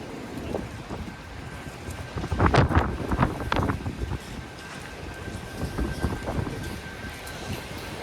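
Wind gusts buffet a microphone while someone walks through downtown Toronto on a mild January day, giving low, rumbling blustery noise that swells into a stronger gust in the middle and then settles into a steady rush.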